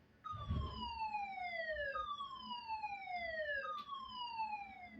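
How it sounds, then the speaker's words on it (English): An H2S gas release alarm at a Saudi Arabian industrial site sounds as a loud repeating descending siren wail, each sweep falling over about 1.7 seconds, with three sweeps in succession and no talk. "H2S gas release."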